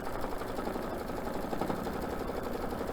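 A sewing machine double-stitches a fabric star in a steady, continuous mechanical whir with rapid needle chatter, close and even in loudness throughout, with no talking.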